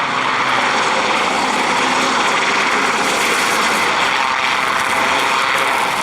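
An RAF Sea King helicopter flying a display at RAF Cosford roars loudly and continuously, its rotor and engine noise a broad, sustained wash with steady throbbing, close and dominant throughout.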